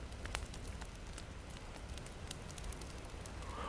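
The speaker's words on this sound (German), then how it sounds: "Oh, das ist das Lagerfeuer." A campfire crackles in the survival video game The Forest, soft scattered pops and snaps over a steady low rushing hiss, faint and continuous.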